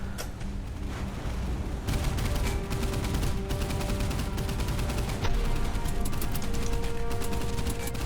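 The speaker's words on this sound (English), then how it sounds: "We need to turn away from that brutal assault of 25mm guns." 25mm anti-aircraft guns hammer away in the naval video game Boat Crew, with dense rapid bursts of overlapping shots and booms rolling continuously for about eight seconds with no pauses.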